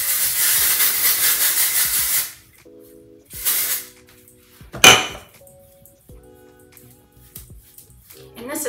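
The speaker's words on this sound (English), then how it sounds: "Dry shampoo to put a little texture in it" Bursts of dry shampoo aerosol are sprayed onto short hair, a long loud hiss followed by shorter blasts and a sharp spurt, separated by quiet moments with faint background tones.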